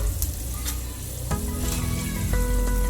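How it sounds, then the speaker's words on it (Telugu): Peanuts and lentils fry in hot oil while a tangy raw-mango dish is prepared, giving a dense, continuous close sizzle with faint stirring clinks and no voices. "పల్లీలు వేగినాయండి"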